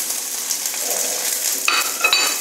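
Mustard seeds, urad dal, chilli and curry leaves temper in hot sesame oil, giving a bright steady sizzle that sharpens near the end, with light metal clinks of a spoon against the pan.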